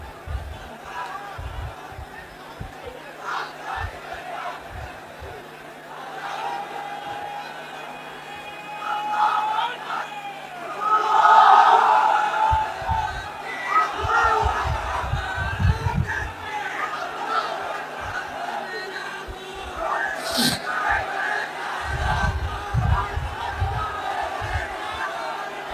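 Large outdoor crowd at a Bangladeshi Islamic religious gathering (waz mahfil) shouting the takbir chant in unison, loud massed voices rising in repeated bursts with an amplified preacher's voice leading between them.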